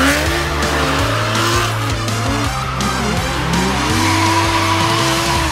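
Two cars tandem drifting on a private compound, tires squealing loudly and continuously over roaring engines, close and sustained without talk.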